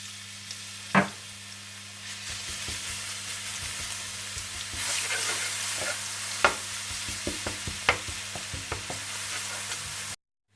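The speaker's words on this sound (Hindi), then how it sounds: "और इसमें आप पिसा हुआ लहसुन डालकर थोड़ा सा भून लें।" Garlic sizzles and crackles steadily in hot oil, with a few sharp pops and occasional stirring scrapes, close up and continuous.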